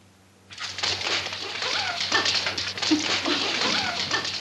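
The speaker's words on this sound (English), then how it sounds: "And these puppies are the cutest things." Puppies whimper and yip in a 1940s domestic comedy scene, a steady run of high, thin cries and soft yelps that begins abruptly and continues close by without pause.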